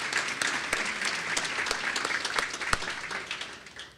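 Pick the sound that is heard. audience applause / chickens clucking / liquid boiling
audience applause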